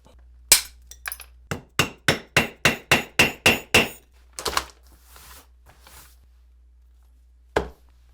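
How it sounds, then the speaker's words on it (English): Solid brass rivets are set into thick leather for a duffle bag made from old cowboy tack. About ten sharp, close hammer strikes ring out in a quick, even rhythm, followed by a few softer taps and one final blow. "I set a lot of solid brass rivets"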